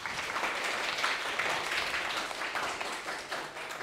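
Students in a primary school English class clap together after a game, a lively, continuous burst of many small hands that holds steady throughout.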